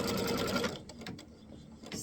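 A sewing machine runs in a steady, close burst while stitching down a piece of quilt fabric for a heart block, then stops, leaving quieter intermittent mechanical clicks and handling.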